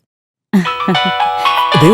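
An incoming call ringtone on a phone bursts in after half a second of silence, a loud melodic electronic tune with layered bright notes that plays on steadily to the end.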